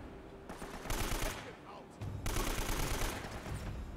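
Enemy gunfire in Uncharted: Drake's Fortune, dense bursts of automatic fire in two sustained rattling stretches, loud and close, with no one speaking.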